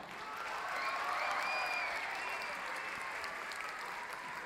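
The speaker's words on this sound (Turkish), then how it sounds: "Onları da alkışlıyoruz tekrar." Applause from a school audience honouring students who placed in a drug-addiction and smoking awareness competition, steady and dense throughout, swelling slightly midway, with faint talk beneath.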